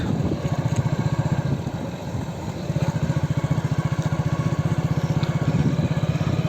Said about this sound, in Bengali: এই যে দেখেন নৌকো চালাচ্ছে